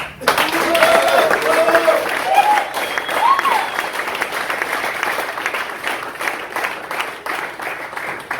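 An audience at the Oplotnica music festival results announcement breaks into loud, sustained applause, many hands clapping together before slowly tapering off.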